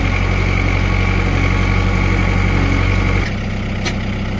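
A farm tractor engine idles loud and steady with a deep low rumble, then drops abruptly to a quieter, thinner idle for the last second, with a brief faint click near the end.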